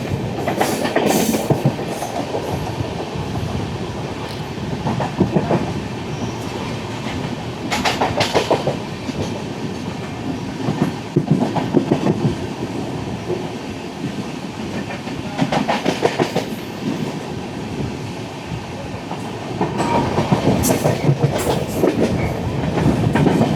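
The 16337 Okha-Ernakulam Express runs loudly on the Konkan Railway line, with steady rail noise and repeated bursts of rhythmic clickety-clack from the wheels.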